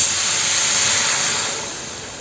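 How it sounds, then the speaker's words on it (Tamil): Water poured into a hot pan of raw mango pieces, giving a loud hissing sizzle of steam that sustains evenly and then gradually fades as it settles, with no voices. "இது வேகிறதுக்கு நம்ம பார்த்திங்கன்னா ஒரு டம்ளர் தண்ணி ஊற்றி சேர்க்கணும்"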